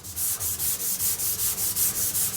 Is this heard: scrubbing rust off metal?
yes